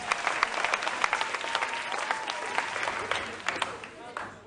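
Audience applause for contestants at a national school quiz championship, a sustained patter of many hands clapping at moderate distance, fairly even with crowd murmur beneath.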